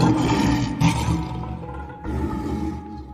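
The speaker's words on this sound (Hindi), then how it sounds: "सेठ की ये बात सुनकर बाघ सेठ पर जोर से दहाड़ता है।" A tiger roars loudly in a Hindi animated story about a goat and a tiger, with two long, rough, surging bursts and no speech over them.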